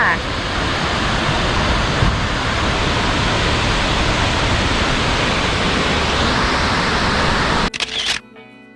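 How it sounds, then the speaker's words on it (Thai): A powerful waterfall pours from a cliff at Khlong Lan Waterfall in Thailand, making a loud, steady, close roar of rushing water that cuts off abruptly near the end with a few handling bumps. "น้ำตกจากหน้าผาไหลลงมาแรงมากๆเลย"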